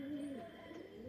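Soft, low pigeon cooing close by at a homemade feeder, a steady murmuring coo with faint chirps in the background.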